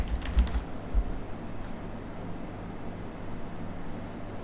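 A password being typed on a computer keyboard: a short burst of a few close key presses at the start, then quiet room noise for the rest.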